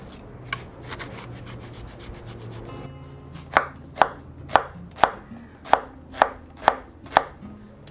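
A knife chops red onion on a board. After a soft rubbing start come about nine sharp, evenly spaced chops, close and crisp, with no voices.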